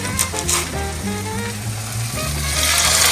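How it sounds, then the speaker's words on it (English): Hot water cornbread patties frying in hot oil in a home kitchen, a loud, continuous close sizzle and crackle that swells slightly toward the end. "we are going to drop cornbread into the oil"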